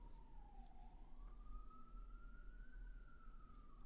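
Emergency vehicle siren wailing outside, a single distant rising and falling tone heard faintly over low traffic rumble, with no talking.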